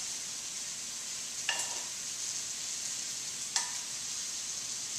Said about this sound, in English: So, just going to drop our mushrooms right in there.